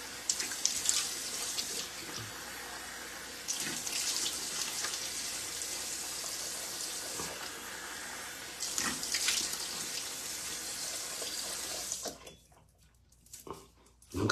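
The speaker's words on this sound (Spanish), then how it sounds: "Me voy a enjuagar la cara," Tap water runs steadily from a bathroom faucet into a sink while a face is rinsed, a close, continuous splashing rush that stops abruptly near the end.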